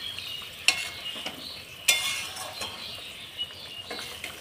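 Sonabhog fish curry bubbles in a pan, a soft steady simmer punctuated by a few sharp spoon clinks and light stirring sounds, close and fairly quiet.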